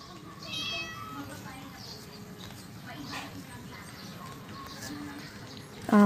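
A cartoon cat in a mobile app game gives a short meow near the start and another right at the end, both brief and clear over a low, busy background.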